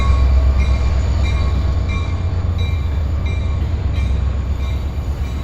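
Freight train rolling past in Miami, Florida, a steady loud low rumble with rhythmic wheel clatter and faint metallic squeal, continuous throughout without talk.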